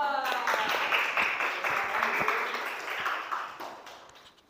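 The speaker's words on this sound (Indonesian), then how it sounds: "Tepuk tangan buat kelompok 2." A class applauds a student group after their presentation in a school lesson, a fairly brief burst of clapping that fades toward the end, with voices mixed in.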